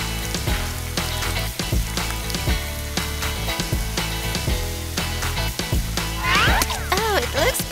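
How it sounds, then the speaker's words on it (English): Pancakes fry in a pan with a steady, loud sizzle, broken by regular clacks of a utensil against the pan and a springy twanging sound near the end. "It's time to fry pancakes."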